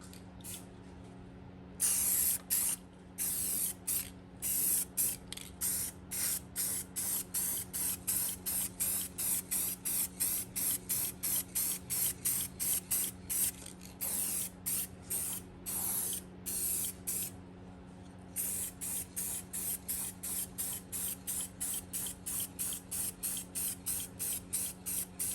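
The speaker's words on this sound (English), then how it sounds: "for clear, we're using Duplicolor 1K clear" Duplicolor 1K clear coat hisses from an aerosol spray can in rapid, regular short bursts with brief pauses between passes, close and fairly quiet over a faint steady hum.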